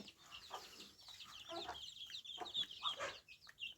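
A broody hen clucks softly in short, repeated bursts, fairly close but quiet, with no talking over it.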